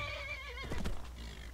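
A horse in the video game Skyrim lets out a clear whinny with wavering pitch, followed by a few hoof thuds over a low steady game background, close and alone without speech.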